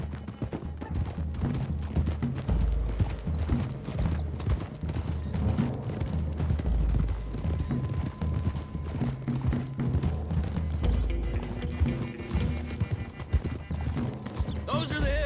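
Horses gallop with steady clip-clop hoofbeats and occasional whinnies in the Red Dead Redemption 2 video game, loud and continuous over a layered game soundscape with background speech.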